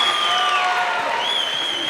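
A basketball crowd cheers and applauds at a college game between the Eagles and Johnson University Tennessee, a steady roar of voices and clapping filling the whole moment.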